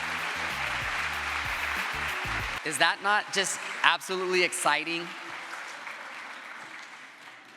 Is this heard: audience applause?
yes